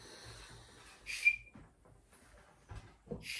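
A small toy whistle from a Penny Market Easter egg gives a couple of short, shrill toots, with quiet gaps between and faint shuffling nearby.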